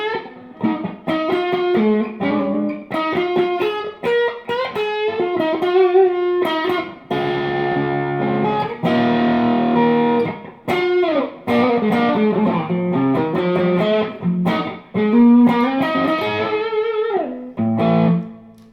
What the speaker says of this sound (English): I set it up a little softer for some kind of fusion distortion.